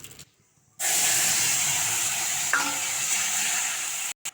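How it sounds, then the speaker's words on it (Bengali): Bay leaf, cumin and radhuni drop into hot oil for a tempering over a cooked vegetable, bursting into a loud, steady sizzle after a short quiet start, with a brief crackle midway before it cuts off. "এবার নামিয়ে ফোরনটা দিয়ে দেব তেলের উপর তেজপাতা জিরে রদনি দিয়ে দিয়েছি"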